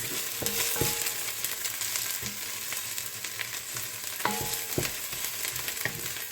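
Diced onion sizzling and frying in a pan for Nigerian meat pie filling, a steady close crackle with occasional stirring knocks and scrapes throughout.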